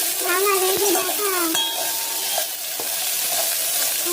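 Masala paste for egg biryani fries in a pan, giving a loud, steady sizzle, while a spoon stirs and scrapes against the metal with occasional sharp clinks.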